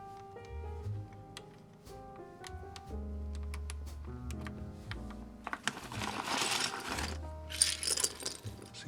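Keys clack one at a time on an Ikki68 mechanical keyboard with rainbow keycaps: sparse, distinct, close-up taps, with a few quick clicks bunching together toward the end.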